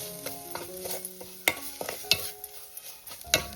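Goda masala being sautéed in oil for a Konkan-style mandeli fish dish, with a spoon scraping and stirring in the pan in sharp bursts over a soft, steady frying sizzle.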